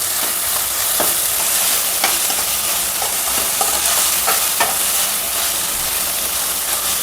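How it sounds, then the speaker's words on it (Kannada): Onions with a pinch of salt are fried over a slow to medium flame, giving a constant close sizzle broken by several distinct spatula scrapes and taps against the pan, with no talk. "ಈರುಳ್ಳಿ ಫ್ರೈ ಮಾಡುವಾಗ ಒಂದು ಸ್ವಲ್ಪ ಉಪ್ಪು ಹಾಕ್ಕೊಂಡ್ರೆ ಅದು ಬೇಗನೆ ಕಂದು ಬಣ್ಣಕ್ಕೆ ತಿರುಗುತ್ತೆ, ಬೇಗನೆ ಫ್ರೈ ಆಗುತ್ತೆ."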